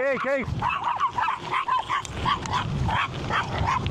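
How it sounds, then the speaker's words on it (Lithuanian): Dogs bark and yip in quick bursts nearby as they run at a cyclist on a gravel bike in Lithuania, with some whimpering mixed in and a voice talking over them in Lithuanian. "Šitą atbėga šunis."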